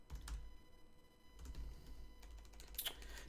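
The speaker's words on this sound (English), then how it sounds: "Typing is hard." Quiet, close clicks of typing on a computer keyboard during PHP coding work, a few scattered keystrokes over low room hum.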